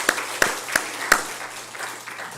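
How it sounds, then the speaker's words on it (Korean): A church congregation at a Korean afternoon service gives a few scattered, distinct claps, four or five sharp hits spaced apart that fade into a soft patter, fairly close and modest in volume. "박수 한 번 더 합시다"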